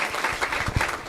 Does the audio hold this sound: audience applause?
yes